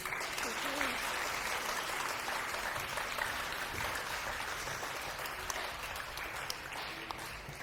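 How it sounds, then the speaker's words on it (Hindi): Studio audience at a television show applauds steadily for several seconds, moderately loud clapping with talk faintly mixed in underneath. "सारिम के लिए बहुत सारी तालियां होनी चाहिए"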